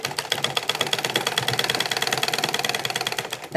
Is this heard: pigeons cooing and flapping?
no